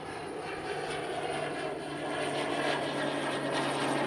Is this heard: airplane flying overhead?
yes